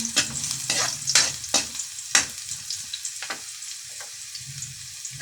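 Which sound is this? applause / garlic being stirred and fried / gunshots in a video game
garlic being stirred and fried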